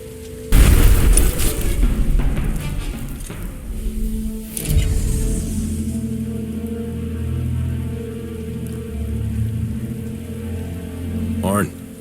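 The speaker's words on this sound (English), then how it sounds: "Mortar is ready." Mortar fire in the Star Wars: The Old Republic video game: a loud boom near the start, a second blast around the middle, then a rumbling battle bed with a rising whine at the end, alongside game speech.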